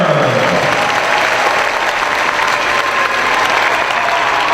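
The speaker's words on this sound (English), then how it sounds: "Ladies and gentlemen, one more round of applause for our educators of honor." A large conference audience at a general session applauds for honored educators, a dense, steady wash of clapping that stays loud and even throughout with no voices over it.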